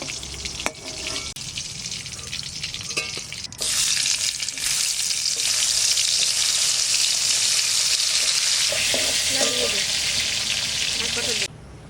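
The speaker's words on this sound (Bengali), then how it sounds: "এইভাবে আমি সব পটল আর করলাগুলো ভেজে নেব।" Pointed gourd and bitter gourd frying in hot oil, a steady loud sizzle that swells partway through and continues for several seconds before dropping off, with faint clatter underneath.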